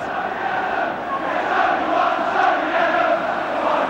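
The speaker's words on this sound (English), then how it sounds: "And the Liverpool crowd pounced on it." Liverpool football crowd at a 1988-89 league match against Arsenal, a dense roar of thousands of voices rising and swelling in a stadium, loud and continuous with no commentary over it.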